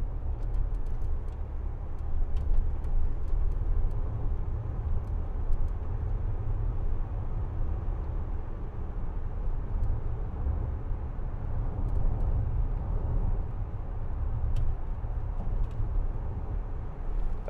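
Steady low rumble of a Land Rover Discovery 4 3.0 SDV6 HSE driving along a bumpy country road, with continuous road and engine noise and occasional light ticks and knocks from the suspension over rough patches.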